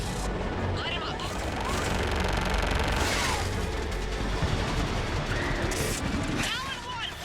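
Loud, sustained air strike gunfire and explosions from Mass Effect 3, a dense roaring barrage with rumbling booms and whooshing effects, voices shouting over the battle.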